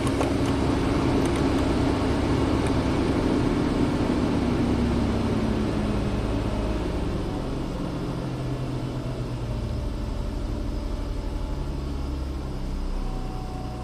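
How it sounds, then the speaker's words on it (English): A Nissan Xterra engine with a rich-running fault, throttle held open so it revs with a steady broad roar that slowly eases down, close and loud, no talk. "I'm going to hold the throttle open."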